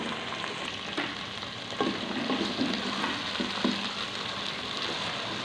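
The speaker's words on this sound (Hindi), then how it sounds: "इसको हम ब्राउन होने तक फ्राई करेंगे।" Ginger and chopped green chili paste frying in a pan toward brown gives a dense, steady sizzle close by, with a few light stirring knocks scattered through and no speech.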